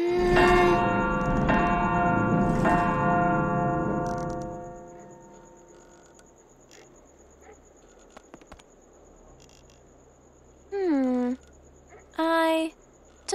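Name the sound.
dragon's bell ringing in the video game Anna's Quest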